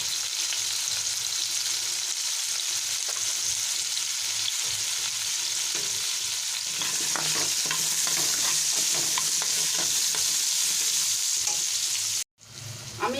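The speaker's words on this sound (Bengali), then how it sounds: "অল্প একটু নুন আর অল্প একটু হলুদ দিয়ে আমি এটা ভেজে নিচ্ছি" Chicken liver frying in a pan with a little salt and turmeric gives a loud, close, continuous sizzle with a dense crackle and frequent scraping stirs, then cuts out briefly near the end; no one speaks.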